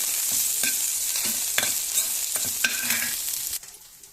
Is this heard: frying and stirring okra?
yes